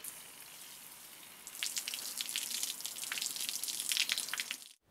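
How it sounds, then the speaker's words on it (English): Outdoors, cold water bursts from a garden hose pipe and splashes steadily as it is run to cool a child's burn, a close hissing spray lasting a few seconds before cutting off abruptly. "Because we're outside, there's a hose pipe, so that's what we'll use to cool the burn."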